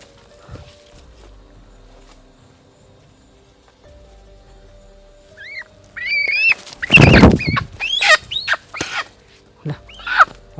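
Chickens cluck and squawk in a short agitated burst, loud and close, after several seconds of quiet background.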